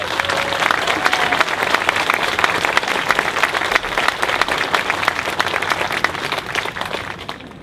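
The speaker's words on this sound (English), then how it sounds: "Please help me welcome and give a big round of applause to General Chris Adams." An audience at a memorial lane dedication applauds to welcome a general, loud continuous clapping from many hands that holds steady, then fades slightly at the end.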